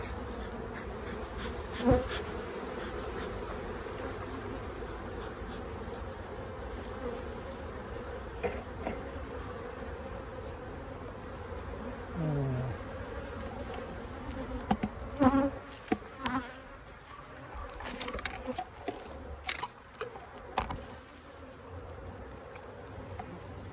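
Honeybees buzz steadily around an open beehive, a dense close hum with a few louder passes near the listener and no voices.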